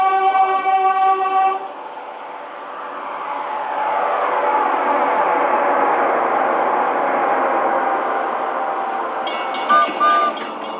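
A subway train horn sounds at the start, then a steady rumbling roar of the rail car rolling along, with a brief squeal near the end.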